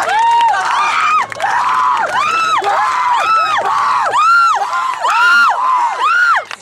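A group of voices cheers in loud, rhythmic rising-and-falling whoops, one after another, close and energetic.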